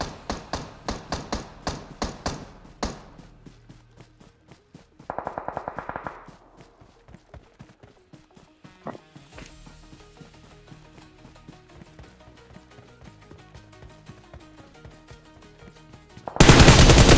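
Rapid bursts of automatic gunfire from a battle-royale style video game, repeated volleys with single shots and thuds, loud and close, ending in a sudden loud blast of noise.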